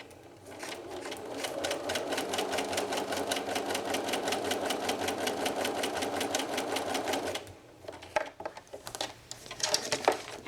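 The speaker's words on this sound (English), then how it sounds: "I'm going to sew between 3 and 4." A sewing machine stitches a paper-pieced quilt block in a steady, rapid run of needle strokes for about seven seconds, then stops, followed by soft handling clatter.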